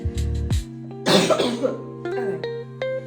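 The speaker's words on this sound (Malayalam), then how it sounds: "എനിക്കപ്പോൾ ചുമ വരും" A person coughs several times close up, a couple of harsh bursts followed by throat clearing and smaller coughs.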